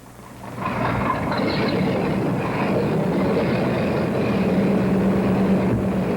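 Large four-engine B-24 bomber at the Willow Run factory airfield as its engines start, a steady loud broadband drone rising in the first second and then holding, with a low hum underneath.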